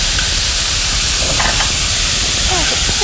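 Steady, bright sizzling hiss of meat stir-frying in a hot pan until it changes colour, continuous throughout with faint clinks and scraping of a utensil.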